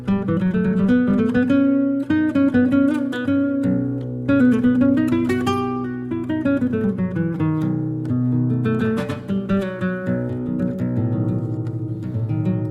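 A melodic line in the fifth mode of melodic minor, played on a sustained, tonal instrument, flowing through rising and falling phrases with chordal accompaniment, no talking.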